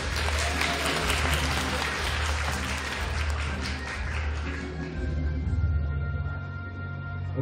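Audience at a cosplay festival applauding a cosplayer on stage, loud dense clapping with crowd noise over a sustained musical hum, tapering slightly toward the end.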